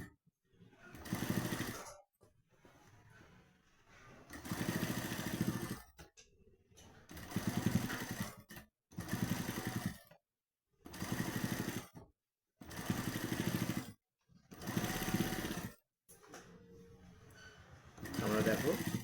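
A sewing machine stitches ready-made piping onto fabric in repeated loud bursts of a second or two, each separated by short pauses, with someone speaking softly between runs.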